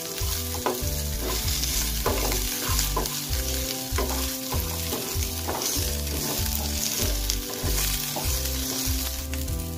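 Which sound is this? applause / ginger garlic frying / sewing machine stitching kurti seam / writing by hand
ginger garlic frying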